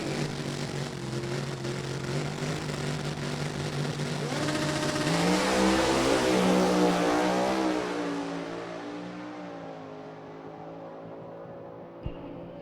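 An Opel drag race car roars past at an NHRA event, its engine swelling to a loud, rising whine mid-pass and then fading into the distance, followed by a brief sharp thump near the end.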